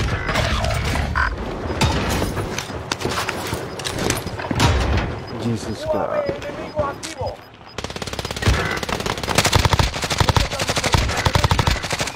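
Rapid automatic gunfire from a video game, loud and close, in bursts crackling over clanking mechanical game sounds, with a steadier stretch of firing near the end.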